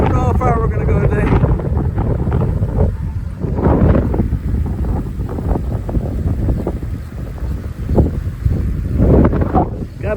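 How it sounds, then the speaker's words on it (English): Strong gusting wind roars across the microphone in a steady, loud rumble while a man rides a fat tire ebike outdoors on a cold, windy 60-degree day, with his voice faintly under the buffeting. "Really windy and it's 60 degrees."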